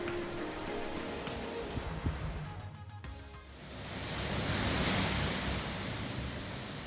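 Sea waves on the Greek coast of the Peloponnese, a broad continuous wash of surf that swells and fades, rising to a louder crest near the end, with wind noise and no voices.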